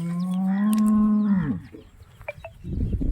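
A large, well-bred dairy cow gives a single long, loud moo that falls in pitch at the end, followed by soft rustling and faint farmyard noise.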